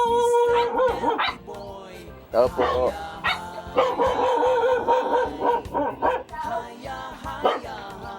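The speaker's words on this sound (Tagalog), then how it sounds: "Ito, galit yung aso." A dog barks repeatedly and angrily nearby, loud yaps and growly barks overlapping with people talking.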